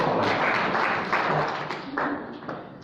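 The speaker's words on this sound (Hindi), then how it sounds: "सही सही सुना दिए, तालियां तो बजा दो इनके लिए।" An audience at an annual religious gathering in Bhilwara breaks into loud clapping, which fades unevenly into scattered claps and knocks over a few seconds.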